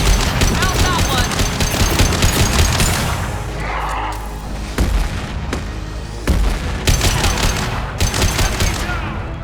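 Rapid gunfire in Mass Effect 2, dense bursts of automatic shots with heavy booming impacts that pause briefly midway, then resume loud and close, with game voices over the fire.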